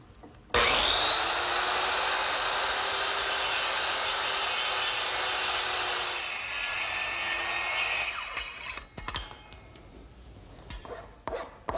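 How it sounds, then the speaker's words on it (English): Circular saw making cheek cuts in a wooden workpiece in a woodworking shop: one loud, steady cutting whine that holds for about seven seconds and then trails off into a few scattered knocks and clatters. "to make the cheek cuts, I'm going to return to my circular saw."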